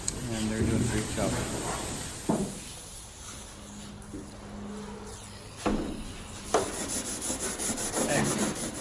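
Scraping and rasping of scuffing pink coating off the metal wing of an RV-5 aircraft under restoration, heard as rough strokes that come and go, with people talking over it.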